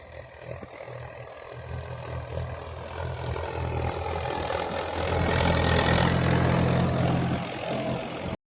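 A tractor engine runs in a farm field at the start of the kharif season, a steady low throbbing idle that continues unbroken throughout and grows slightly louder toward the end.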